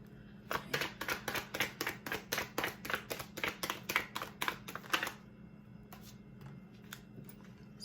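Tarot cards are shuffled by hand in a quiet room, a rapid run of about fifteen crisp riffling bursts in steady rhythm, close and clear, followed by a few softer card taps.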